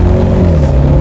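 A BMW 650 Gran Coupe's engine and exhaust give a loud, deep, close rumble that holds steady and throaty for about a second, with no talk over it.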